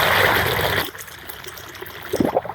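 Water from a 1/3 horsepower M53 sump pump gushes out through a drain grate beside an exterior wall, a loud splashing rush that cuts off after under a second, followed by quieter trickling and a few bumps.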